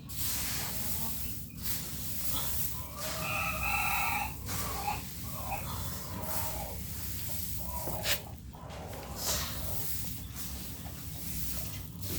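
Native desi chickens cluck and call with occasional crowing, fairly faint, beneath a constant broad hiss of background noise.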